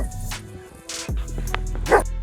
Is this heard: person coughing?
no